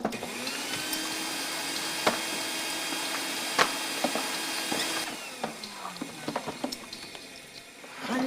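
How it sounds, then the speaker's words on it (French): A household vacuum cleaner runs steadily with a whining motor drone, punctuated by sharp clicks and knocks as it bumps along, and the motor pitch drops and rises near the end. "Ça m'excite de passer l'aspirateur, ça excite mes hormones."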